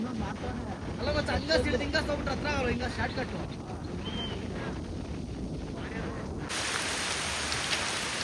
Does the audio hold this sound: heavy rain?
yes